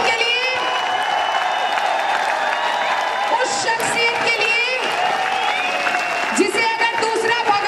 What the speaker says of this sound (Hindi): जोरदार तालियां हो जाए उस शख्सियत के लिए